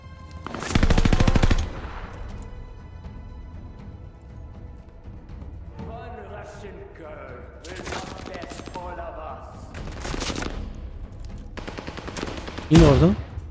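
Bursts of machine gun fire in the video game Call of Duty: Vanguard, loud rapid rattling volleys in several separate bursts, mixed with game sounds and voices talking between them.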